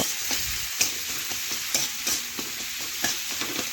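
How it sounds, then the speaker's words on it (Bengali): Steady frying sizzle runs under repeated soft scrapes and taps as cumin, turmeric, chilli powder and salt are stirred into a pointed gourd mixture in a pan, close and even-paced. "এখন আমি ভালোভাবে নাড়াচাড়া করে এর সাথে মিশিয়ে নেব।"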